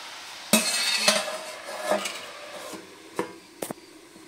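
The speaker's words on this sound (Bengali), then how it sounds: "আমি এবার কিছুক্ষণের জন্য ঢাকা দিয়ে দেবো।" Metal cookware clatters as a pot of ash gourd curry is stirred and its lid set down: a few sharp clinks and knocks spaced irregularly, close and clear in a quiet kitchen.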